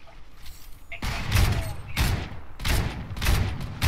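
Gunfire in the video game Fortnite: a few loud bursts of shots in close succession, each a broadband blast, over faint background game sound.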